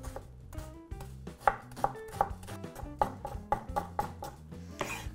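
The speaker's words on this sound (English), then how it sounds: "we're going to chop up one onion" An onion is roughly chopped with a knife on a board in a quick, steady run of sharp close knocks, about a dozen in a few seconds, over a low background hum and with no voices.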